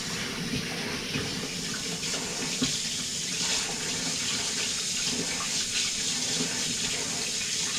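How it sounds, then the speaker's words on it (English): A kitchen water tap runs steadily while tomatoes are rinsed under it, a continuous close splashing hiss with slight shifts as the stream hits the fruit and sink. "Give it a quick wash, rinse."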